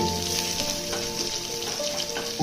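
Broad beans and chili being tempered in hot oil for a Rayalaseema-style chikkudu kaya fry, a steady close sizzle and crackle of frying that runs continuously, with no talking.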